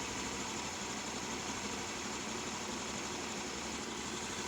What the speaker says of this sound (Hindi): आरपीएम को हमने कम कर दिया।